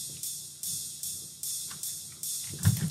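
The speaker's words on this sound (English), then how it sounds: "these rides that we have going right here that sound like this just by themselves" Ride cymbal samples from a dubstep intro playing alone, a regular series of bright washy strikes about every 0.4 seconds, each ringing and decaying, with a low thump near the end.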